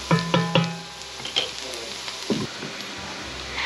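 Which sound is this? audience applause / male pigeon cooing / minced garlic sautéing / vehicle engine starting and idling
minced garlic sautéing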